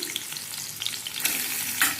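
Fish heads crackle as they fry in oil, a close and continuous sizzle that briefly swells with sharper bursts of spitting and popping near the end, with no talk.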